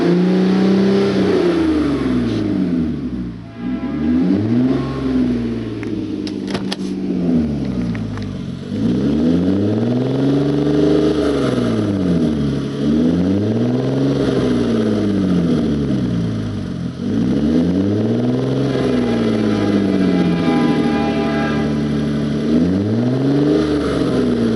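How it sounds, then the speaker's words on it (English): A car engine with a loud, faulty exhaust revs up and down in a steady repeating cycle, each rise and fall rasping and droning close to the microphone with no talk over it. "I don't know if it's the exhaust. It's got to be the exhaust. And it's loud."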